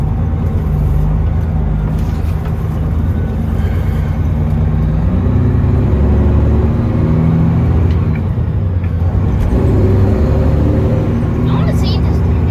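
A straight-piped Coronado race truck drives through town, its engine a loud, constant low rumble with swells of revving, while people talk over it.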